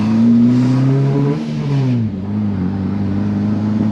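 The straight-four engine of a K24-powered Subaru Impreza revs steadily with a deep, droning mid-range tone, the pitch dipping briefly before settling back into a constant hum.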